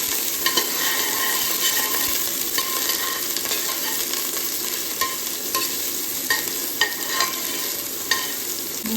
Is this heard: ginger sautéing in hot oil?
yes